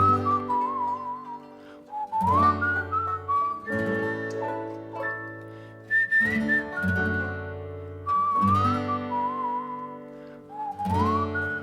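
A person whistles a lilting folk melody, clear and close, with short pauses between phrases.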